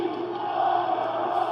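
A sold-out wrestling crowd in an Orlando arena roars in a steady, dense wall of mixed cheers and shouts, loud and sustained throughout with no break.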